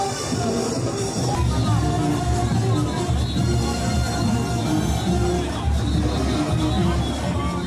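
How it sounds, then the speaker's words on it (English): A fired-up crowd at a Rawson Square parade, a dense continuous roar of shouting and chanting voices with loud festive noise throughout. "the fired up crowd began to shout, "Warriors and two straight.""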